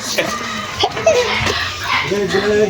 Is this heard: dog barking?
yes